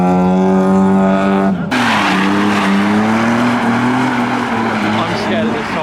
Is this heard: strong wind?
no